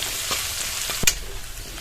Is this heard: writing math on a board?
no